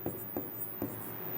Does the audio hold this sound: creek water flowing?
no